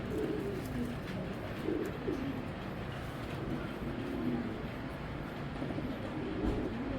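Young racing pigeons cooing close by in a soft repeated rhythm over a constant low background rumble, with no voices.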